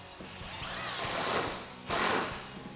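A power driver with a T25 Torx bit sinks a wood screw into a board while installing a Jeep Wrangler JK hard top hoist, giving two sustained whirring bursts, the second starting abruptly, close and fairly loud.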